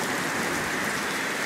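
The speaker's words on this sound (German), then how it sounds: "Es regnet so in Strömen, mit gerade Hagel und Gewitter und so weiter" Heavy rain pours in a dense, constant roar near Cologne during a storm with hail and thunder, with no individual drops or breaks standing out.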